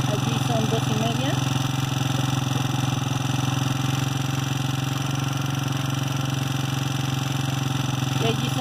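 A four-stroke motorcycle engine idles steadily at close range during carburetor adjustment, a loud even putter with constant pitch, and a voice talks briefly over it near the start.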